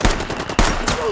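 Blank-fired gunshots on a concrete film set, two sharp loud reports about half a second apart, each followed by a bright slap echo and a ringing tail, with no talk.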